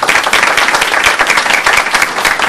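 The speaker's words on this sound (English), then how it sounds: "I'd like to have a round of applause for all of our presenters today." Audience at a phthalates symposium applauding the presenters: steady, dense clapping from a crowd, loud and continuous throughout with no talk over it.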